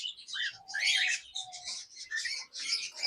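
Lovebirds kept in breeding cages at a bird farm in Karachi chirp and twitter almost continuously, several birds overlapping in bright, busy bursts close by.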